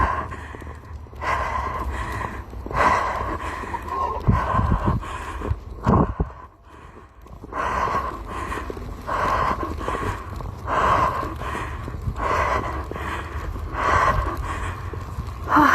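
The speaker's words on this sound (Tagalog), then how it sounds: "Hingal." Heavy panting breaths from someone walking through a snowstorm in Uddevalla, Sweden, rhythmic and close, over a steady wash of wind and storm noise.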